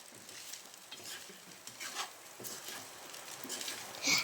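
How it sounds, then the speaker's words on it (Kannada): Pasta is stirred in a pan with a utensil, producing close scraping and clinking strokes over a light sizzle, with a sharper metallic knock at the end. "ಚೆನ್ನಾಗಿ ಮಿಕ್ಸ್ ಮಾಡಿಕೊಳ್ಬೇಕು"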